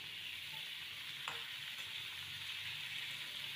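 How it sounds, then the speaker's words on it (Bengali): Ridge gourd and potato pieces sizzle in hot oil with a steady, even frying hiss while being stirred, with a brief scrape of the utensil partway through and no talking. "সমস্ত ঝিঙে আলুটা একে একে তেলের মধ্যে ছেড়ে দিচ্ছি। এবার সুন্দর করে ওপর নিচ নাড়াচাড়া করে নেব।"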